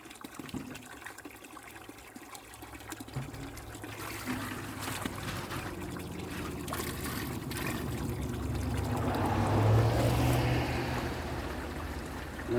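Spring water trickles and pours steadily as it is fetched into a container at a spring, close by and continuous, swelling louder toward the end with a few handling clunks.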